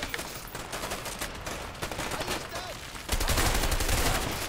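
Shotgun blasts go off across a pool during a shootout in the game A Way Out. Sharp shots crack repeatedly amid a dense mix of gunfire that grows louder and thicker toward the end.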